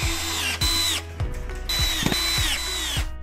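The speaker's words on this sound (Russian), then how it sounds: "Уголок крепится вровень с торцом царги на саморезы из комплекта фурнитуры." A power screwdriver drives self-tapping screws from a hardware kit into a white double bed frame with a lift mechanism. A rising whine comes in two bursts, broken by clicking ratchet-like knocks. The sound is fairly close and there is no talk.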